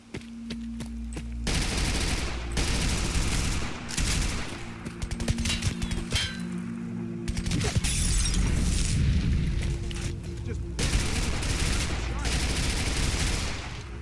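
Heavy gunfire in the video game Fallout 4, with bursts of rapid automatic fire and single loud shots that come in long stretches with short pauses, plus sharp impacts, all loud and close.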